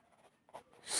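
Numbers being written by hand, a brief faint scratch of pen strokes with a louder rustle at the end.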